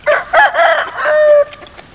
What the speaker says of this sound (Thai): มีไก่มากิน